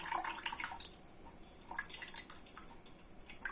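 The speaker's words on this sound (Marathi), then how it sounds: "यावर आलेली घाण अशा पद्धतीने मी इथे पाणी काढून घेत आहे" Water trickling and dripping in small splashes as it drains from rinsed sago, close by and fairly quiet, with no talking.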